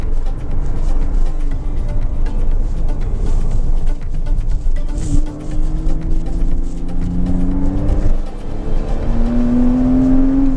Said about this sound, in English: I've had the exhaust done on this car, it sounds like a GT3